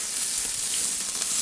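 Harissa lemon chicken sears on a fierce barbecue grill, giving a steady, loud broadband sizzle and hiss that runs unbroken throughout, close up and with no voices.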